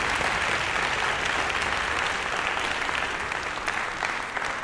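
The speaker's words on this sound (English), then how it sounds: "Please give a warm round of applause to Ms. Leila Hallam." An audience at a spring band concert claps in steady, dense applause for an honored guest, filling the room evenly with no voices heard over it.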